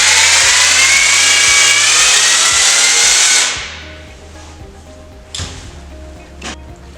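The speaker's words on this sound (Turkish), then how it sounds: "dal kesme testeremiz" A small cordless pruning chainsaw from a CATPOWER battery garden tool set whines loudly and steadily for a few seconds, then cuts off, leaving a couple of faint clicks.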